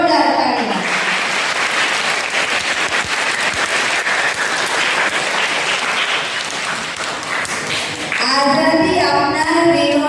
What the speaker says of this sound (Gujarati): ફરીવાર નાનકડી બહેનો માટે જોરદાર તાળીઓ.